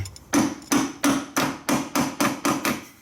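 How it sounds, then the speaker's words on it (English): Eight sharp metallic hammer strikes on a BMW transmission mount ring out in a steady rhythm, close and loud, each with a brief clanging decay. "Oh boy, I might have to go get the hammer."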